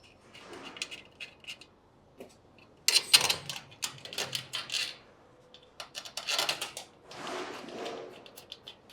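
Screws being tightened while fitting a back seal on a pneumatic sauce filler: quiet scraping and ratcheting clicks come in irregular bursts, close by, with no talking.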